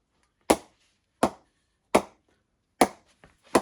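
A cricket ball strikes a TON Super Retro Classic cricket bat five times at a steady rhythm, each hit a sharp, close wooden knock that decays quickly.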